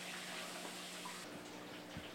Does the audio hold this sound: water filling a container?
yes